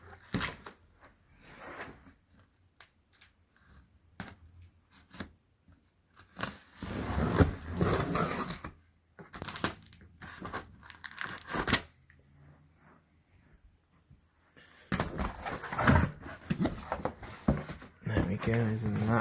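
Cardboard outer box being cut open during an unboxing: scattered scraping, ripping and rustling bursts of varying loudness, with quiet gaps between them, close to the listener.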